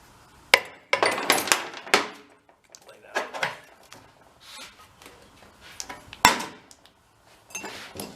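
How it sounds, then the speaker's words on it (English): A hammer strikes a screwdriver wedged behind a part on a knocking engine, giving several sharp metallic clanks in uneven bursts with clatter between them. "put a little pressure on it, we'll give it a whack with a hammer"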